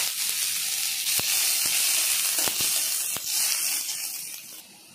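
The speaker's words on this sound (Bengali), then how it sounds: "পেঁয়াজ আমার হালকা ভাজা হয়ে গেছে।" Onions with green and dried chillies and five-spice seeds fry in mustard oil in a wok, a steady close sizzle broken by a few sharp ticks and pops, fading slightly at the end.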